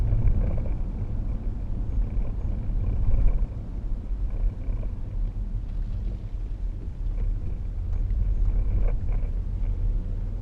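A 2012 Range Rover Sport 3.0 SD V6 diesel pulling away, heard from inside as a steady low engine rumble and road drone that swells slightly as it accelerates, with no talking.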